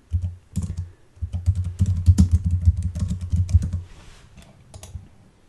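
Rapid typing on a computer keyboard, close and crisp, with clustered keystrokes in bursts that trail off into a few final taps near the end.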